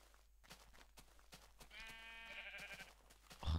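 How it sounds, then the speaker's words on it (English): A single sheep in a video game lets out a wavering bleat lasting about a second, heard clearly over quiet background clicks and noises. "Oh, there's a sheep."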